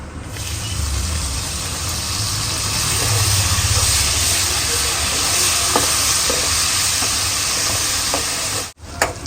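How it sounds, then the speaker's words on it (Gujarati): Tomatoes, peanuts and mixed vegetables sizzle and fry steadily in a pan, with occasional stirring clicks from a spoon against the metal, continuous hissing throughout. "અને 2 મિનિટ સુધી સતડાવા દેવાનું છે એટલે એક રસ થઈ જાય બધું."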